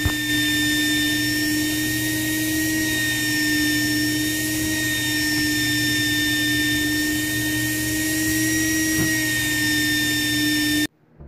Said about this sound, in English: When you hear the pitch of the machine change, then you just simply pull the hose out a little bit until it goes back to normal